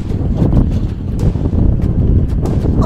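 Strong wind roars and buffets the microphone steadily during a motorcycle ride past mountains and sea in Dingalan, Aurora, a loud, rushing gusty noise with no voices.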